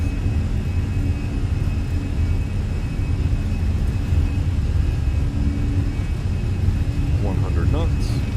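An Airbus A320 in a flight simulator spools up to takeoff power, a steady loud engine roar and rumble that holds throughout, with faint voices briefly audible near the end.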